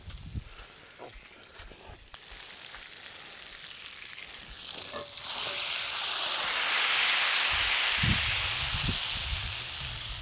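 Butter melting in a hot pan, cooking up an Irish spice bag, gives a steady frying hiss that swells louder midway and stays broad and close, with a few soft knocks and clatters of utensils.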